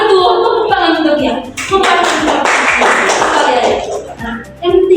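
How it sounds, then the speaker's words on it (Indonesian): A classroom of children claps for a student during a Catholic religion lesson, a burst of rapid applause mixed with young voices and the teacher speaking. "Ini, ya betul, tepuk tangan untuk dia."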